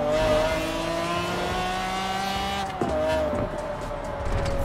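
A McLaren F1 GT in Forza Horizon 4 drives with a loud, sustained engine drone whose pitch holds steady, dips sharply as it shifts, then climbs again.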